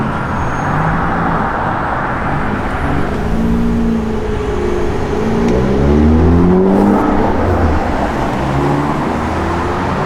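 A 1972 Oldsmobile 442 engine idles close by, then revs up and down in a few rising sweeps before settling back, loud and with no voices.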